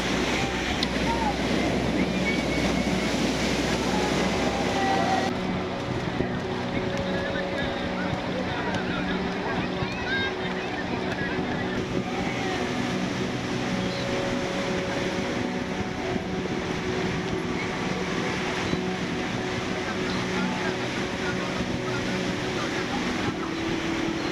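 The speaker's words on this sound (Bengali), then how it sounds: "এই ভিডিওতে ভার্চুয়ালি না হয় শুনুন ঢেউয়ের সেই আওয়াজ" Sea waves at Digha beach in West Bengal roll in as a broad steady wash of surf and wind, with a low engine rumble early on and occasional faint voices in the background.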